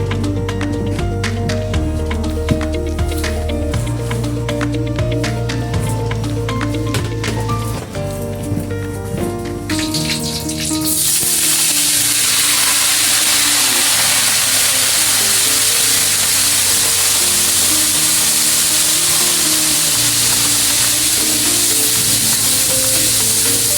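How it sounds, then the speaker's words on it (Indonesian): Shrimp and then fish fry in hot oil in an outdoor cooking setting at Rawapening lake. A loud, continuous sizzle starts partway through and follows a stretch of musical tones. "Kita goreng udangnya dulu, habis itu ikannya kita goreng."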